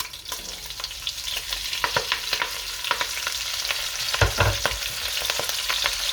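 Chopped spring onion sizzles steadily in a hot pan for a chicken and mushroom stew, a constant crackling fry with occasional stirring scrapes and no talking.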